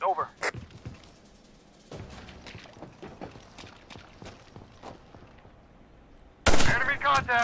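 Sniper rifle shots in a competitive first-person shooter match, a few sharp cracks scattered through the clip with a loud burst near the end, heard beneath ongoing commentary.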